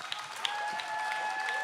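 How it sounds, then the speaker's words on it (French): A comedy show audience applauds a guest named JP, a steady patter of clapping at moderate level with a few louder claps near the start. "Attendez un applaudissement pour JP"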